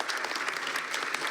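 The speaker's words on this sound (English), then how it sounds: "please give our panel a great big round of applause" Audience applause for a panel at a talk on perseverance, brief dense clapping from a crowd at steady volume.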